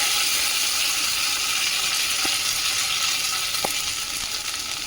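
Ginger paste and slit green chillies fry in hot oil, producing a steady, loud, dense sizzle with a couple of faint clicks, while a simple vegetarian dish is being cooked.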